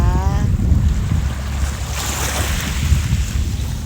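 Waves rolling onto the beach in front of a seaside resort at Samaesan, Thailand, a loud, constant rushing surf mixed with gusty wind noise on the microphone, with no speech.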